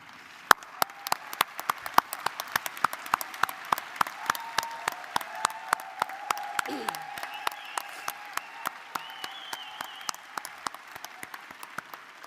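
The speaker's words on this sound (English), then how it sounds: "Lottie Shackelford and the Women's Caucus invites all veterans to stand as we applaud you" Applause for veterans at a Democratic convention Women's Caucus meeting in Chicago: a sparse, moderate crowd clapping, distinct individual claps over a soft hall background, with faint voices underneath.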